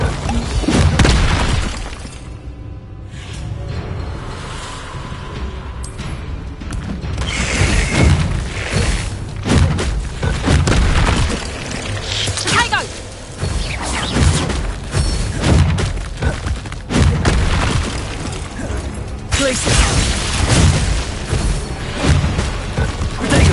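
The Bombarda blasting spell sets off a long run of loud explosions, with booming blasts, shattering and breaking debris, and heavy thuds crashing repeatedly, close and forceful, with little talk.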